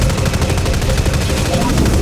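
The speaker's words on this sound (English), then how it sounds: "Getting shot. Someone's shooting me" Gunfire rattles in the video game Dust 514, a loud, continuous rapid-fire stream of shots with a dense, unbroken rhythm.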